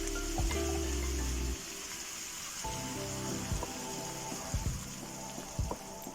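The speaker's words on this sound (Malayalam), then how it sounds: "കുറച്ച് വെള്ളം കൂടി ആഡ് ചെയ്യാം." Water poured into a bitter gourd curry with ground coconut and cumin in a pan, giving a steady, soft splashing hiss that runs through the clip before easing off.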